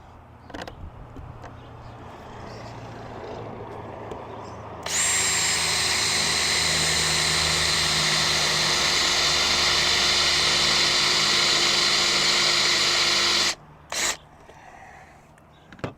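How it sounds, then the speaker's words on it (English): A power drill with a dull bit drills into a vehicle roof, whirring loudly and steadily for about nine seconds, starting abruptly and cutting off, with quieter workshop noise and a brief burst afterward. "I've got a spot where I want to drill both of my holes."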